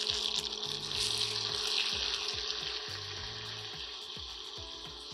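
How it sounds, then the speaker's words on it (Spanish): Pieces of tomato fry in a pan with butter and oil, giving a loud, steady, close sizzle with faint clatter in the background. "Y aquí mismo vamos a agregar 3 piezas de jitomate cortado en pedazos."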